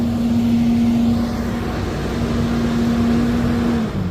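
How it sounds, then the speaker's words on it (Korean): A street-cleaning vehicle passing along a Washington, D.C. street near the Capitol gives off a loud, steady engine drone with a sustained whine that drops off just before the end, close by, with no speech. "청소 차량"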